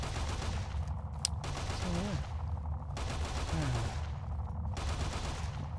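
Gunfire in Fallout: New Vegas: dense, continuous rattling bursts of shots with brief gaps, loud and steady, mixed with a short voice and other game sounds.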